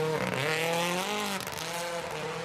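WRC rally car driven by Rovanperä drifting through a stage at Rally Japan 2025, its engine holding a loud, sustained high-revving note with steady harmonics, dipping briefly as the driver shifts, then pulling on through the slide.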